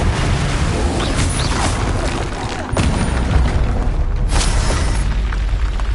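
A Bombarda explosion spell from the video game Hogwarts Legacy, landing as loud booming blasts over a dense, busy game soundscape, with a sharp burst near the middle and another shortly after.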